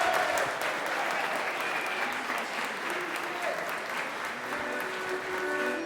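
A studio audience in Paris applauds at a live Occitan talk show, with dense, steady clapping from many hands close by that holds at an even loudness throughout and is broken by a few faint voices.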